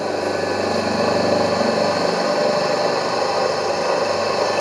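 An induction (asynchronous) AC motor runs on a test bench with its brake load at minimum, giving a steady, continuous hum and whir with broadband mechanical noise at an even level throughout.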